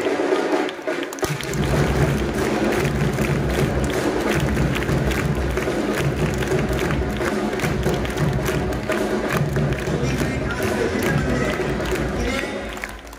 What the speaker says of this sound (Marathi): जोरदार टाळ्यांच्या गजरामध्ये या सगळ्यांनी अभिनंदन करायचंय।